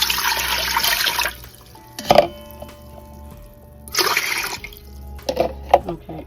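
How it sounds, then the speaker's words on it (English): Three cups of water poured into a pressure cooker for Cuban black beans: several short bursts of splashing, pouring liquid separated by quiet pauses, with a few light clinks, close and fairly loud. "I'm gonna add 3 cups of water to the pressure cooker."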